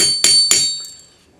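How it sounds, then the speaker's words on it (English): A small French jeweler's hammer strikes metal twice with its cross-peen, flattening a piece for a leaf cuff. Each blow is close and loud, with a bright metallic ring that fades out after the second hit. "I'm using a little French jeweler's hammer, but it's the cross-peen part that I'm using"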